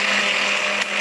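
A blender whirs steadily at full speed as it blends a blueberry smoothie with ice, a loud, dense motor roar that dips slightly near the end.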